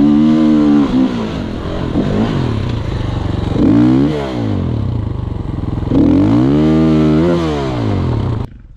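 A motorcycle climbs a steep slope in mine terrain with a loud, close engine that rises and falls through repeated revving surges and strained pulls, heard alone.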